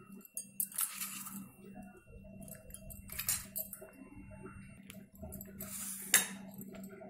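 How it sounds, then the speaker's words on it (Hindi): A spoon beats curd with salt, turmeric and chilli in a bowl, in quick clinking, scraping bursts with pauses between them, close and quiet, with a faint steady hum beneath. "इसे अच्छा तरह से पीट लेना है। दही, नमक, हल्दी, थोड़ी सी मिर्ची"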